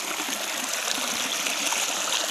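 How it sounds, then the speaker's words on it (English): A river flows steadily outdoors, a continuous broad rushing and trickling wash of water, close and even throughout with no voices. "when I come across this river and the water"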